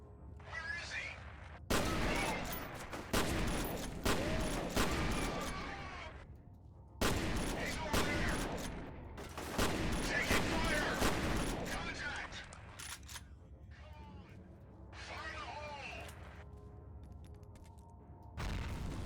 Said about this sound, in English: We appreciate a shotgun that's got some solid range to it.